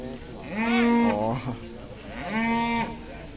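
A super jumbo cow unloaded from a truck moos twice, loud and close, each low drawn-out call rising and then falling away.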